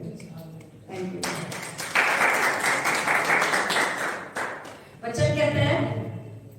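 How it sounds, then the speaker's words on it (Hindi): Clapping from a church congregation during worship swells into a dense wash for a few seconds. A voice speaks before and after it and over its edges. "तालियां बजा के सो को धन्यवाद करेंगे।"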